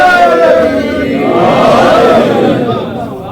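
Crowd at a Muharram majlis chanting slogans together: a loud, sustained unison chant of many voices, close and reverberant.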